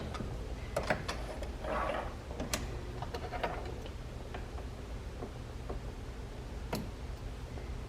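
A sewing machine back-stitches at the end of a seam on a small gift project, giving faint, sparse ticking and clicking, quiet and close with no talk.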